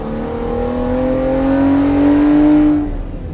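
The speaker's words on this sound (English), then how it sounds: "Actually, the stock engine moves along pretty good." Stock engine of a Fab Fours The Legend pulling steadily while driving, a smooth rising drone with a faint whir, close and continuous for a few seconds before easing off slightly at the end.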